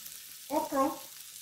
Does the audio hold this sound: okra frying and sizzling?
yes